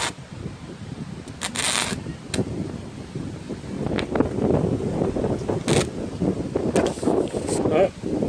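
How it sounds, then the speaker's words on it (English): Strong gusts of wind buffet the microphone outdoors at a steel cutting and welding site, with rough, uneven rushing bursts throughout. "I'm having problems welding with the wind, and you can see it's strong enough it's blowing the tripod over"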